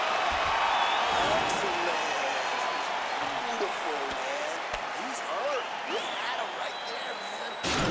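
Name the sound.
crowd cheering in the video game UFC 4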